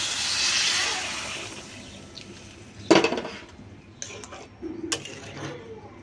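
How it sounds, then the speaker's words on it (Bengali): Water poured into a hot pan of soybean curry, a rush of hissing sizzle that fades, followed by sharp metallic clinks of a utensil against the pan and a brief spluttering surge. "এখন জল দিয়ে দেব"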